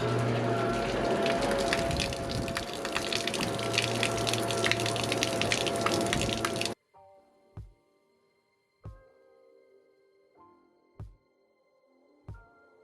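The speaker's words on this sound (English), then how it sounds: "See water pumping out on that side." A livewell pump on a boat pushing water, a loud steady gushing rush for several seconds that cuts off abruptly, followed by a few sparse clunks and short bursts.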